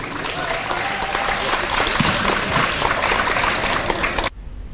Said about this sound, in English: So I want you to give yourself a round of applause for representing your school